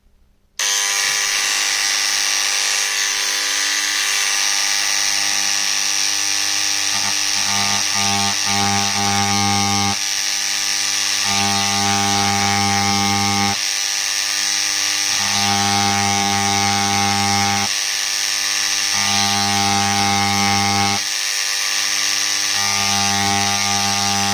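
A power hammering tool sets a handmade sterling silver pendant. It gives a loud, continuous, close-up buzzing drone with steady rattling, cycling on and off in repeated bursts and pulses, with no talking.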